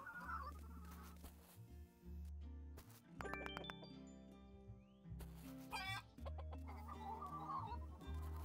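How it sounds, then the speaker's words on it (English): Chickens cluck repeatedly on a farm in the video game Dinkum, close and fairly quiet, with a faint background music bed and occasional soft chimes. "I forgot to, like, feed and pet my chickens yesterday."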